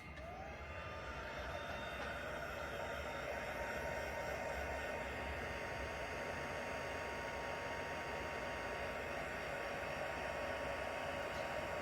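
A heat gun set to a gentle heat dries gesso on fabric. It gives a steady, loud, unbroken blowing roar with a whining motor hum that holds throughout, close by.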